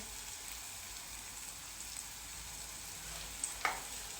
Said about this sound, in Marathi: अद्रक लसूणची पेस्ट टाकायची आता ही पण परतून घ्यायची